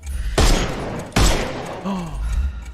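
Two sharp, loud gunshots ring out in the Sherlock Holmes Chapter One video game, each a sudden crack followed by a short decaying tail, roughly a second apart, with a quieter thud afterward.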